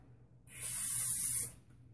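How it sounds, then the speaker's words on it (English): Hairspray from a large bottle hisses in one continuous burst of about a second onto hair being styled into a bandana updo, close and loud against a quiet room, with no talking. "So, and then you just spray."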